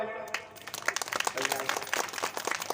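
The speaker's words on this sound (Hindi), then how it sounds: "एक बार तेज आवाज ताली बजाओ भाई" An audience at a Ramayana storytelling (katha) event in a village near Barabanki claps loudly, a dense irregular patter of many hands filling the space, with a voice heard over the start.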